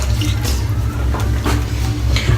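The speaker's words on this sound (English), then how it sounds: "razor is rinsing out beautifully" A shaving razor is rinsed under steady running water, a loud and close continuous splash with brief bursts of extra splatter as the blade is moved through the stream.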